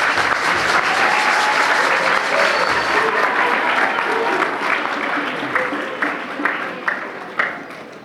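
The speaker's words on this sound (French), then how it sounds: "j'aimerais que vous applaudissiez tous pour ce grand merci" An audience claps steadily in thanks for a departing APEC president at a gathering; the dense, loud applause fills the whole stretch, then thins and fades toward the end.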